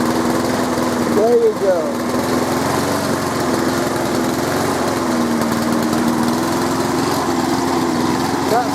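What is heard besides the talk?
small-engine saw started and running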